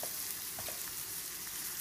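Chopped onion sautés with a pinch of salt in a pan over low heat, a continuous close sizzling hiss with faint crackles.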